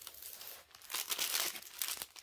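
Plastic zip bags crinkle and rustle close up while a diamond painting kit is unboxed, a steady handled crackling with brief louder bursts and no voice.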